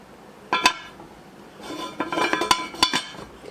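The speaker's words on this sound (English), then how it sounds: "Okay, I'm just going to put the lid on them." A metal lid is set onto a pot of collard greens with a couple of sharp clinks, then a longer run of clattering metallic knocks as it settles, close and fairly loud.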